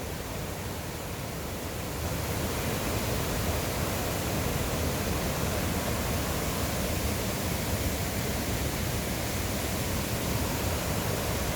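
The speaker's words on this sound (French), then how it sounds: "il y a un gros bruit de cascade." A waterfall in Yellowstone roars as a dense, constant broadband rush, loud and unbroken throughout, with no voices over it.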